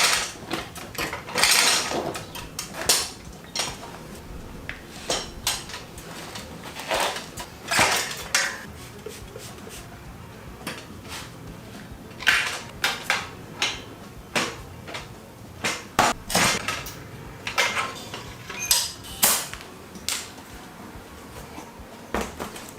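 A wheel balancing machine works on a Honda CRF300L dirt bike wheel, giving irregular bursts of clicking, ratcheting and mechanical clatter with short pauses between, fairly close and with no talk.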